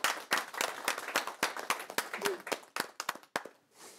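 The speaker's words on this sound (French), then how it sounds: "j'aimerais que vous l'applaudissiez avec moi, s'il vous plaît" A small audience at a student associations' project launch claps in distinct, fairly sparse hand claps, individual smacks clearly separated rather than a dense roar, fading out near the end.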